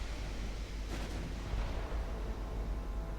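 Torpedo detonation in the naval strategy game Ultimate Admiral Dreadnoughts, a faint, deep rumbling blast with a brief burst partway through, heard alone with no voices.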